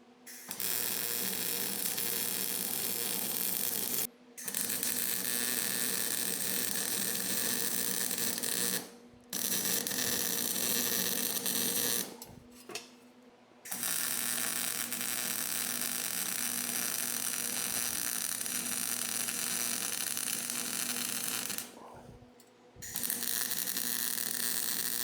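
Steady buzzing welding on an S10 truck build runs in several long bursts, each cutting off abruptly with brief silent pauses between welds.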